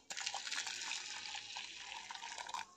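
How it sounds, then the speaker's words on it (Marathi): Freshly boiled hot water pours into a pressure cooker holding wheat, a steady splashing gush that continues throughout, fairly quiet and close. "आता ह्यामध्ये गरम पाणी, चांगलं उकळलेलं पाणी घालायचं आहे."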